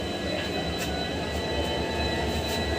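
Steady rumbling drone of an express train running from Guwahati to Nagaon, heard from inside as a continuous loud, even roar with faint rhythmic pulsing.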